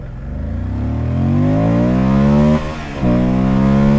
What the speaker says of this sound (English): See if I can get a slightly smoother launch with the clutch.